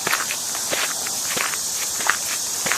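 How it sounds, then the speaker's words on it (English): Crickets or cicadas chirp steadily along the Erie Canal towpath at evening. A continuous high buzzing runs underneath, while nearby footsteps crunch in a regular rhythm on the dry path. "you can hear the cicadas or the crickets"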